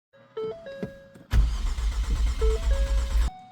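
A car engine cranks and turns over after a brief power-window whir, then catches and runs loudly for about two seconds before cutting off, in a car fitted with new spark plugs.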